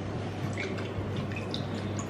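A drink being poured into a glass in a holiday setting in the Caribbean, a brief steady liquid trickle and splash heard close up with no talk.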